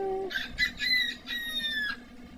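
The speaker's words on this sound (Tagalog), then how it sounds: "Background mga manok." Chickens cluck and call in the background on a rural farm, a few short bursts of fowl vocalizations heard at a moderate distance over a quiet outdoor backdrop.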